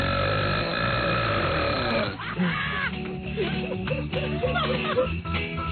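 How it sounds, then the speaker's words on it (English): A loud, drawn-out belch from a guest in a radio studio, rumbling for about two seconds before giving way to chatter and laughter from several people in the room. "Just belch."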